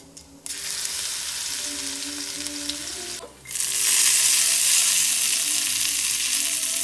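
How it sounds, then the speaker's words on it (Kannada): Tempering spices crackle and sizzle steadily in hot oil for a chickpea sambar, a loud, continuous hiss close by that briefly drops off, then returns even stronger and fuller. "ಸಾಂಬಾರಿಗೆ ಒಗ್ಗರಣೆ ಹಾಕೊತಾ ಇದ್ದೀನಿ, ಎಣ್ಣೆಲಿ ಒಗ್ಗರಣೆ ಹಾಕೊತಿದ್ದೀನಿ."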